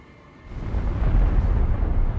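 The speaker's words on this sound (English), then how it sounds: "The APC hits the mine and gives us a spectacular fireworks display." A Russian armoured personnel carrier setting off a landmine: a deep, booming blast swells after a quiet start into a sustained low roar and rumble that fills the rest of the moment.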